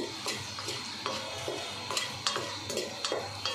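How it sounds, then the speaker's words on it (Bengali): Dried red chillies frying in oil in a pan over medium heat, a steady close sizzle with a faint crackle and repeated light scrapes of a spatula stirring, no voices. "শুকনো লঙ্কাটা যখন একটু হালকা ফ্রাই হয়ে আসছে"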